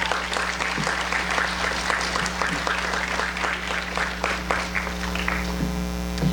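An awards ceremony audience gives a round of applause for students, a dense, steady spread of clapping under a persistent mains hum, moderately loud and fading toward the end.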